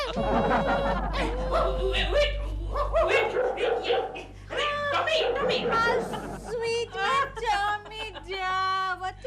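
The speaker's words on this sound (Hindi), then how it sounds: "किसकी आवाज आ रही है? सपना का कुत्ता।" A pet dog barks and yips in a busy home scene during a comedy episode, with sharp bursts over a dense bed of music and overlapping voices.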